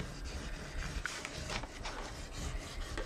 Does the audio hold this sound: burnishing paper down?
yes